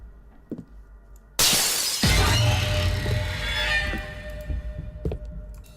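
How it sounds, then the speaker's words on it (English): A picture falls with a loud cartoon-style glass shatter: a sudden bright crash followed by a dense spray of tinkling shards that rings out and slowly decays over several seconds, heard alone. "That was a really loud sound for a picture falling."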